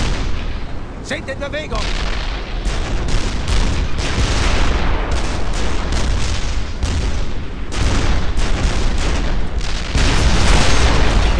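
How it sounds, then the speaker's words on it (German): A busy battle in the World War II shooter Brothers in Arms: Earned in Blood, with steady rifle and machine-gun fire, booming artillery and explosions throughout and soldiers shouting over the din. "Die schießen von überall!"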